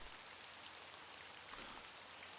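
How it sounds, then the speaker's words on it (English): Steady rain falling on a surface, a continuous soft hiss of drops at moderate distance with no talk over it. "Listening to the rain."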